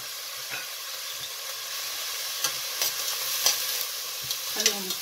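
Food frying and being stirred in a pan while cooking a sweet Moroccan lamb-neck marrouzia, with a steady close sizzle and scattered scraping stir sounds, no talking.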